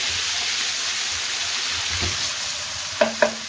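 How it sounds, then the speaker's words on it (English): Steady, close sizzling hiss of paste frying in a pan for prawn jalfrezi, with two light clinks of a utensil near the end. "So just sizzle that off."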